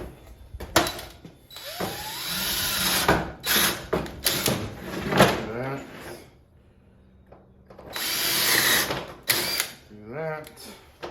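Power drill driving 1-inch self-tapping screws into 3/4-inch-thick wood in several short whirring bursts with pauses between, close up, with a person speaking in the gaps.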